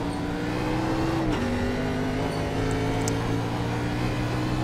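A NASCAR race car engine in the iRacing sim at Watkins Glen drones loudly and continuously as the driver gets back on the throttle, with a brief dip in pitch like a gear change before it climbs again.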